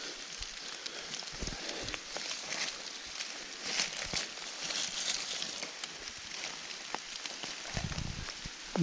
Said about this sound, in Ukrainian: що дощ паде